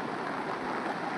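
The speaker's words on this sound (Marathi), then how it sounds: "रायगडच्या म्हसळा तालुक्यामध्ये जोरदार पाऊस झाला असून बोर्ली रस्त्यावरती पाणी साचलं असल्याचं देखील आपल्याला बघायला मिळतंय" Heavy monsoon rain in Mhasla taluka, Raigad, makes a dense, steady hiss of downpour that is loud and close, with no break across the short stretch.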